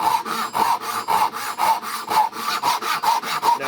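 A Japanese pull saw cuts through wood in a steady rhythm of about a dozen rasping strokes, close and loud, with no talking.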